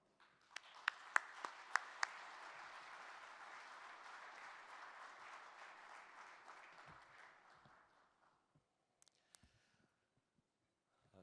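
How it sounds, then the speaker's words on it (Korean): Welcoming applause from a church convention audience as a pastor comes forward at a national anniversary gathering, a steady dense clapping that swells for about seven seconds with a few sharp claps early on, then fades out. "목사님 나오실 때 환영의 박수 부탁드립니다."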